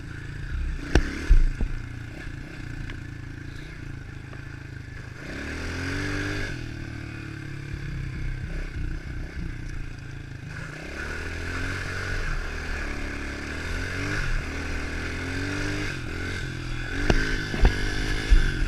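A pit bike engine revving hard at high RPM, loud and close, with repeated rising and falling surges, a steady buzzing drone between them, and some clattering toward the end.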